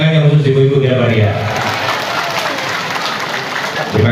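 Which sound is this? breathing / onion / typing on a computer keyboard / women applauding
women applauding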